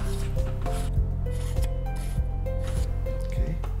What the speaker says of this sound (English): Next, you're going to mount the Hyperstar lens assembly onto the threads, like so,